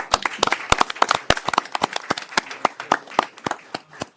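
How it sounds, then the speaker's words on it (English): A crowd at a city mayor and council meeting gives a round of applause, with many hands clapping in an irregular, uneven patter that carries on for several seconds in an indoor hall. "All right, let's give them a round of applause"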